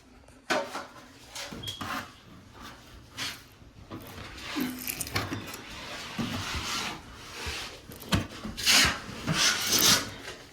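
Old wallpaper being scraped off a pantry wall, repeated close rasping scrapes and tearing strokes in an uneven rhythm, with occasional knocks.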